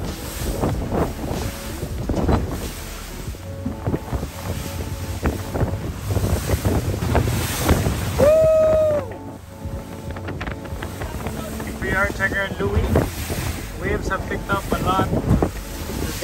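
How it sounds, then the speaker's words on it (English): Ocean waves slosh and crash around a small boat on choppy sea while steady wind buffets the microphone, with a brief tonal whistle midway and some distant voices. "Check out the waves!"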